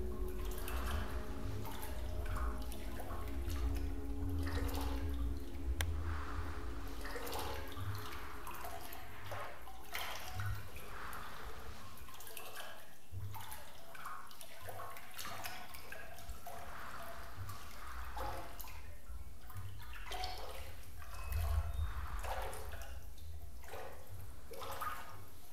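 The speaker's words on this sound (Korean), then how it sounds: "물소리 좋다." Water dripping and trickling in a flooded pool area of the Backrooms video game, a steady soft stream of drops and pouring that echoes faintly throughout, with no talk.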